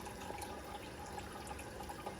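Chicken broth for mandi coming to a boil in a pot, a faint, steady bubbling and simmering hiss with no voices.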